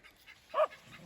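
A dog on a flower farm in January lets out one short, mid-distance yip or bark, brief and moderately loud, with faint quiet sounds around it.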